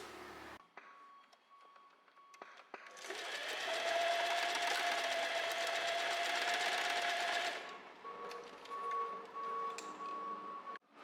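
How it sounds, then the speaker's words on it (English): A sewing machine stitches over elastic on a dress, running in one steady mechanical whir for a few seconds, close up, with quiet handling sounds before and after. "I'm gonna go to the sewing machine and I'm just gonna sew over it a few times"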